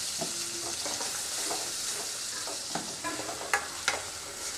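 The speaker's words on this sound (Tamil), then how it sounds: "கொஞ்சம் கருவேப்பிலை போட்டுக்கலாம். போட்டு இதை போட்டு வதக்கிக்கலாம்." Curry leaves and pirandai (adamant creeper) sautéing in a pan for thuvaiyal: a steady close sizzle with scattered stirring scrapes and a few sharper clicks, no voices.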